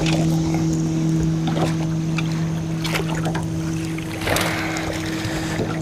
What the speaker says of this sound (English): I'm gonna see if I can use the trolling motor to catch up to this fish, get him in the net.